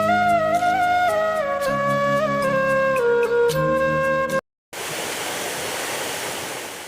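Music plays for the first few seconds, then a short gap gives way to the constant rushing roar of the Satbahni waterfall in Surguja, Chhattisgarh, loud and steady, with water pouring from beneath a banyan tree.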